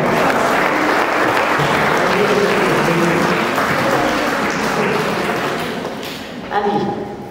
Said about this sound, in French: on applaudit ce grand timide